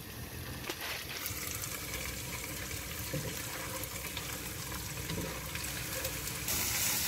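Coriander and green chilies go into a hot pot, met by a steady, close sizzling hiss that runs without a break and grows slightly louder and brighter near the end, with no voices.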